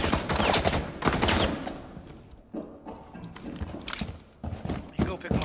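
Rapid gunfire in a shooter video game, bursts of shots crackling beneath excited voices talking over them, with a short lull before more shots return.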